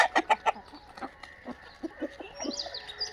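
A free-range desi hen on a poultry farm clucks in a series of short, close pulses, then softer clucks continue while faint birds chirp in the background.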